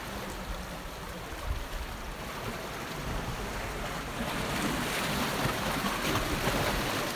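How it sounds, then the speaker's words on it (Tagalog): Continuous wash of rough surf and churning water on a beach at Church Bay, Bermuda, a dense hiss that swells slightly louder partway through, with wind noise and no talking. "Maingay yung alon ng dagat."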